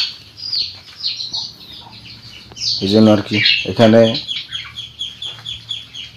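Chickens in an indoor room cluck and squawk nearby in a string of short, bright calls, with a louder burst of squawking in the middle, while someone speaks briefly between the calls.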